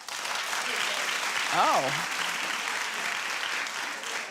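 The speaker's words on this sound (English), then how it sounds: "Clap if you think it's a good one. But clap if you think it's too much." Studio audience clapping, dense and steady from start to finish, with a brief exclamation from one voice partway through.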